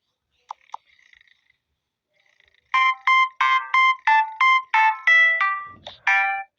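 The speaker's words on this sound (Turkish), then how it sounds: "Telefonu çalıyor." A phone rings in a Toca Boca game, a repeated electronic chime of about seven short bursts in steady rhythm, loud and clear, after a couple of faint clicks.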